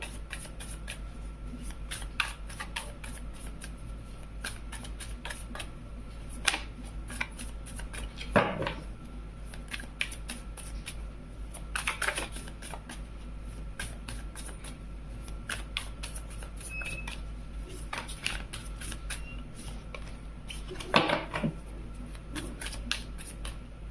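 Tarot cards being shuffled and handled close by in a quiet room, with sharp riffling bursts and soft card slaps scattered over a low steady hum and no talking.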